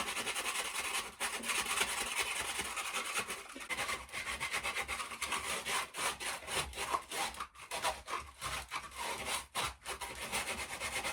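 Sandpaper rubbing out a hole in wood during narrowboat shower work, a steady close rasping scrape that breaks into short rhythmic strokes toward the end, with no talk.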